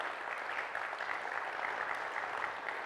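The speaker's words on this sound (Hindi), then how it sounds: "तो अपने लिए तालियां बजाओ।" An audience in a peaceful meditation hall gives a steady, even round of applause, fairly faint and continuous throughout with no talking.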